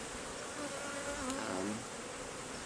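Honeybees buzz steadily and close by at a beekeeper's hive, a dense continuous drone with a few louder passes, and nobody talking.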